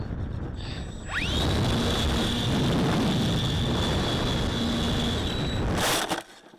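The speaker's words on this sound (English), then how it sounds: "In an effort to save, I'm putting on the throttle, but we're gonna crash." A Multiplex Alpha RC model airplane engine is pushed to full throttle, giving a loud, steady, high-pitched whine that holds for several seconds before cutting off abruptly near the end.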